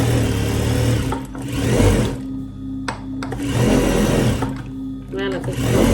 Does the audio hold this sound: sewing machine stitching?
yes